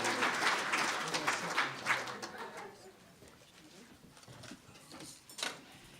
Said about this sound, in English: Let's have a round of applause for the volunteers at the Ark